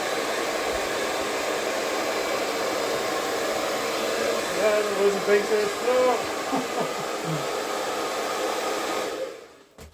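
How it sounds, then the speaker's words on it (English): A hairdryer blows steadily and close throughout, a broad continuous roar that cuts off near the end, with brief voices speaking over it midway. "we'll hit that bit with the hairdryer"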